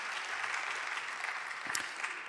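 Brief burst of congregation applause during a Korean church sermon, steady, dense clapping filling the room for a couple of seconds with no talk over it.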